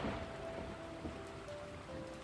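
Steady, soft rain hiss from an audio drama's sound effects, a continuous wash of falling water with a faint tonal hum running beneath it, no voices.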